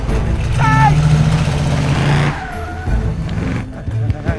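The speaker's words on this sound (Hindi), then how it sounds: "अरे कहाँ लेकर जा रहे हो मेरी गाड़ी?" A stolen car pulls away with tires squealing and its engine revving loudly close by, then the sound fades into a quieter street with a voice crying out over it.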